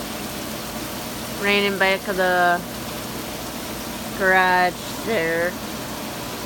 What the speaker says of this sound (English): we're out here in the middle of the rain.